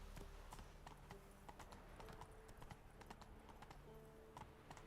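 Horse galloping in The Witcher video game, steady rhythmic hoofbeats over a constant ambient game soundscape, moderately close.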